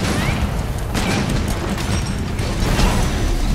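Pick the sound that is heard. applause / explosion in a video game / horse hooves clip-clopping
explosion in a video game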